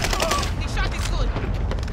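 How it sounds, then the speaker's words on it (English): Dense, continuous gunfire from the Warzone video game, a steady barrage of overlapping shots and thuds filling the whole moment at close range. "I'm under fire!"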